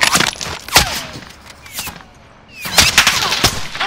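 Rapid gunfire from the Warzone video game, with bursts of shots, a quieter gap in the middle and a renewed volley near the end; no speech.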